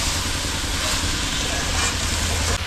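Curry with prawns being sautéed in a pan for a Bengali home-cooked dish, a dense, continuous loud sizzle and hiss close up, with no voices over it.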